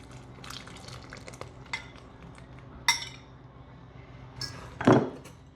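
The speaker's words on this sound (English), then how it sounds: "we're just gonna go ahead and mix this all up until it forms a crumble" Apple crisp crumble topping being mixed in a bowl, with a spoon clinking and tapping against the side in scattered strokes and a louder scraping clatter near the end, close and unaccompanied by talk.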